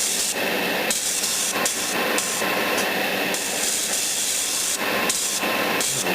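An aerosol spray can spraying an acrylic coat onto a plastic model kit, a loud close hiss in bursts separated by short gaps, sputtering slightly, with no talk.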